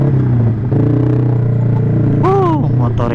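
Yamaha R6 600 cc motorcycle engine drones steadily at close range during a street ride in Indonesia, a continuous low hum with a brief rising whine near the end.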